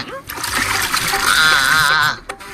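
Water is poured over a face and splashes loudly and up close for about two seconds, with a gurgling spatter, while a voice talks over it.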